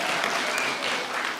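A political rally crowd claps for a local leader introduced on stage in Mt Kenya, a steady, fairly distant wash of applause with no pauses across the short stretch.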